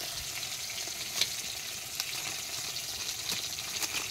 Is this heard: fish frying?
yes